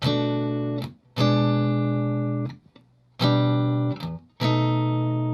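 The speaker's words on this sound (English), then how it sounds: "Here's the neck pickup." A clean electric guitar, a Fender Stratocaster on its neck pickup, plays several sustained chords in turn, warm and round, each ringing out before the next strum.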